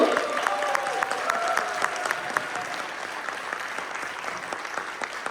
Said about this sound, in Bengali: জোরে একটা হাততালি দিয়ে বাচ্চাগুলোকে উৎসাহিত করার জন্য